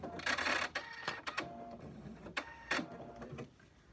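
A home sewing machine stitches along a line on a quilted fabric slipper, a close, steady mechanical whirr broken into short bursts with brief pauses between runs.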